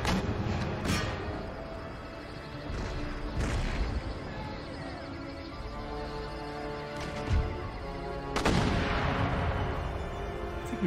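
Cannon and musket fire from an Empire: Total War battle against a city, booming blasts and crackling volleys every few seconds over a continuous bed of battle noise.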